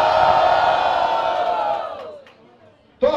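A battle rap crowd at Batalha do Coliseu roars loudly for a rapper, then the noise fades to near quiet before a sharp burst of voice cuts in at the end.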